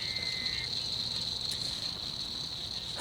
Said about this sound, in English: there's a frog or something going nuts down there